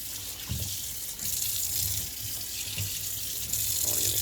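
Water running and splashing as liquid is drained off food for bulgogi into a sink, a steady close rush with a few heavier low splashes throughout.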